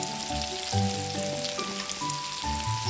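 Beef, asparagus, shiitake mushrooms and onion fry in butter in a pan, giving a steady, close crackling sizzle with light spattering over soft background music, and no talk.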